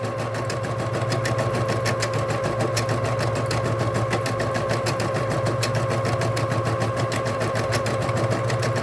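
A Bernina Deco650 embroidery machine stitching steadily, a rapid, even mechanical clatter over a constant motor hum, close and continuous with no talk.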